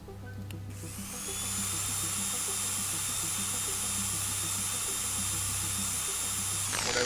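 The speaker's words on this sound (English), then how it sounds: "That is a hell of a drill. It's like throwing off sparks." A large drill in a video game spins up and runs steadily for several seconds, a loud continuous high whine over a pulsing low mechanical drone, then cuts off abruptly, with no talk.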